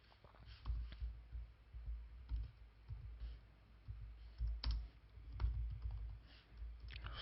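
Computer keyboard typing while an HTML page is being coded, steady irregular clicks and soft key thumps close by, running continuously with no talk.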